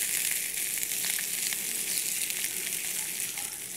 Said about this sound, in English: what I try to do is saute all of this together to kind of get the aromatics going